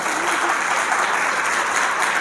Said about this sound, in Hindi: ताली बजाओ एक बार अच्छी तरह